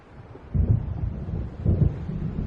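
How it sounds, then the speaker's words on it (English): Deep rolling thunder from an approaching storm in the video game Alan Wake, two low rumbling swells in steady succession, moderately loud with no speech. "It seems there's a storm coming."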